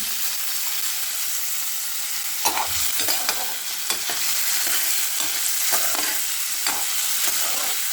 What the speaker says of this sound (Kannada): ನೋಡಿ ಇದಕ್ಕೆ ವಟಾಣಿ ಕೂಡ ಹಾಕ್ತಾಯಿದ್ದೀನಿ. ಹಾಕ್ಬಿಟ್ಟು ಚೆನ್ನಾಗಿ ತಾಳಿಸ್ಕೊತಾ ಇದ್ದೀನಿ ನಾನು.